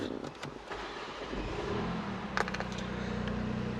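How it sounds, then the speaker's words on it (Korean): A Mini Cooper is started with a smart key: a brief click and rattle, then the engine catches and settles into a steady low idle close by. "시동도 바로 걸어보겠습니다."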